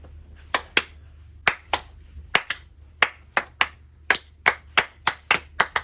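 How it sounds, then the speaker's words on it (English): Scattered hand claps, sharp and close, arriving at an uneven rhythm like a few people clapping slowly rather than a full crowd applauding. "give yourself a round of applause"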